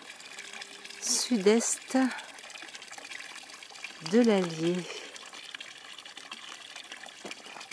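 A spring feeds a small stone wash-house in the Montagne Bourbonnaise hills of the Allier in February. Water laps and trickles steadily close by, with two short stretches of speech over it.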